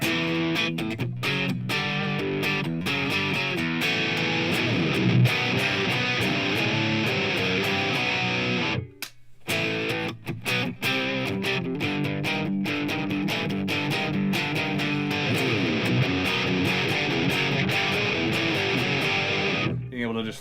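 Kiesel DCM7 seven-string electric guitar played continuously while flicking between pickup settings, neck in split-coil with volume rolled back against the bridge pickup, the tone shifting across a dense run of notes and chords with one brief pause midway.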